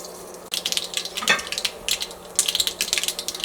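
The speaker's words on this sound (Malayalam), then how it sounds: "നമ്മുടെ കടുക് പൊട്ടിയിട്ടുണ്ട്" Mustard seeds pop and splutter in hot coconut oil in a pan, a dense run of sharp crackles and small bursts close by, rising and falling in clusters.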